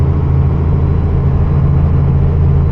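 A car engine drones loud and steady at high RPM while descending a downhill grade in low gear near a brake check area, a continuous heavy low hum with no voices.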